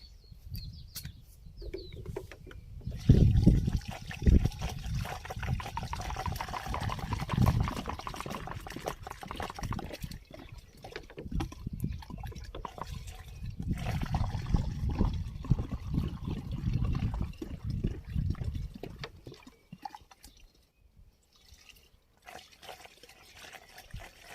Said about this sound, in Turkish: Arkasından sulama yaptığımız zaman suyunu ekliyoruz.